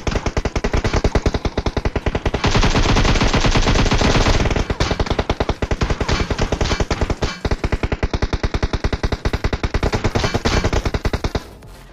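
AKM rifle fire in the mobile shooter PUBG Mobile: loud, rapid automatic bursts rattling almost without pause, one long continuous spray in the middle, no voices.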